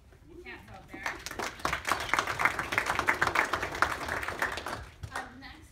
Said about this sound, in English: round of applause to all you crazy cats out there